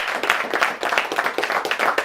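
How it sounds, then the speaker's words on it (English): Audience applause at a Belgian horse seminar, a steady wash of many hands clapping throughout, moderately loud and close, with no talking over it. "You should give yourself a round of applause."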